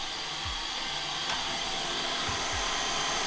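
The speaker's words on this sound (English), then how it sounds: "We'll blow cold air through it now for a couple of 3 minutes, and hopefully then it's cooled the element down" A Wolff Mastergroover tyre regroover blowing cold air through itself to cool its element, a steady close whooshing fan hiss with a couple of faint low thumps.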